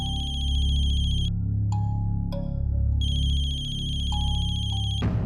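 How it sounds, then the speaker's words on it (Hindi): A mobile phone ringtone chimes in repeating electronic bursts with short gaps, clear and fairly close over a low background hum, with no talking. "फोन की आवाज तो यही कहीं से आ रही है।"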